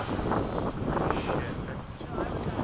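Crosswind gusting across an outdoor model jet flying field, a steady broadband rumble buffeting the microphone throughout, with a faint high engine whine drifting overhead and people talking nearby.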